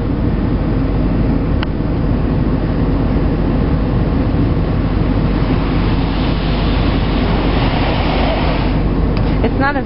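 Air dryer in an automatic car wash, heard from inside the vehicle, blowing as a continuous loud, even roar that holds steady from start to finish.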